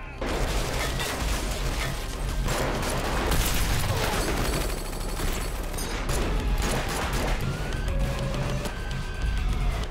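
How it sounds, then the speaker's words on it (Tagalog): Dense gunfire fills an action movie scene in a house, with rapid overlapping shots and bursts, crashes and chaotic noise at constant high loudness throughout. "sinimulang barilin ni Heta ang lahat ng hindi pumanig sa kanya"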